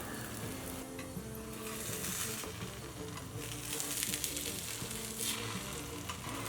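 A stuffed cauliflower paratha cooks in oil on a pan over low flame, giving a dense, continuous sizzle and crackle with faint stirring or scraping, close and steady with no voices.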